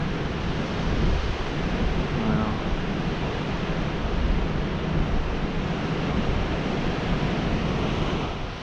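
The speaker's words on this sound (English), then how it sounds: "The sea's magnificent, isn't it?" Sea waves breaking on the Cornish coast pound in a steady, loud broadband roar mixed with wind buffeting the microphone, and a single brief voice exclaims over it.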